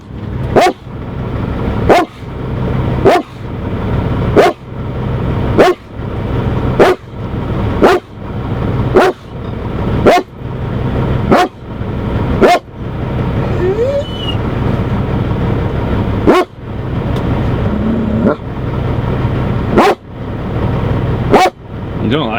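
A dog barks loudly and repeatedly in a steady rhythm, each bark cut off sharply, with background rumble and occasional talk.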